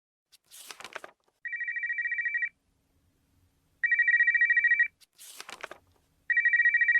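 A telephone rings in repeated electronic bursts, each bell-like trill followed by a steady tone, cycling twice at close range with no voices.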